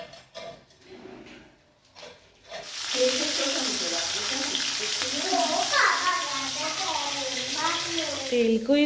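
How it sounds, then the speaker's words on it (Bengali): Fish frying in hot oil for a spicy home-cooked dish, a steady loud sizzle that starts after a few seconds and runs on with voices talking over it. "এখানে হচ্ছে মাছ ভাজা, ঝাল হবে।"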